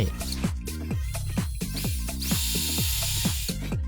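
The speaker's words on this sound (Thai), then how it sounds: "เจาะอะไรก็จบไม่ว่าจะเป็นการเจาะไม้" Masaru SCDS 125 hammer drill boring into wood, a fast, steady hammering rattle of rapid repeated impacts layered with a whining motor hiss, running continuously at moderate volume without speech.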